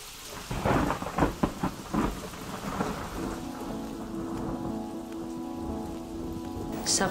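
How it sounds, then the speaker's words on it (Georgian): Steady rain patters on surfaces as thunder rumbles, with dense bursts of drops early on and a low sustained roll through the middle, no voices present. "აქ სულ წვიმს და წყალდიდობა."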